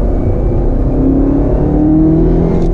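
A 2019 Camaro ZL1 1LE's 650 hp engine pulling hard into a right-hand bend on track, a loud, steady, close engine drone rising slightly in pitch.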